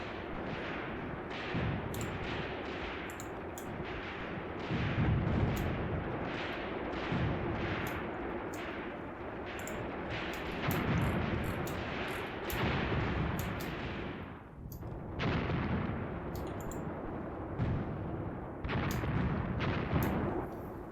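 Artillery fire in the wartime tactics game Graviteam Tactics: Mius Front, a steady series of booming shots and blasts at irregular intervals over a constant rumbling background, mostly moderately distant, with a short lull near the end.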